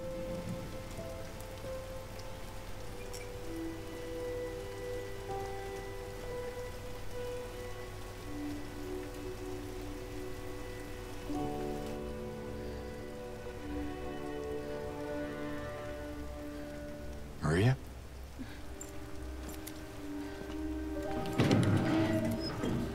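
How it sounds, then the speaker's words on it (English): Rain falls steadily in Silent Hill 2 Remake, a constant hissing patter under low droning ambient tones, with a sharp sweep near the end and a brief louder splash of sound. "Really? It's raining."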